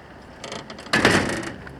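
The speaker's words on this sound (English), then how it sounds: "Close the door." Greenhouse door being closed on a very hot day, a brief scraping slide followed by a louder rattling sweep and settling clatter, close and alone.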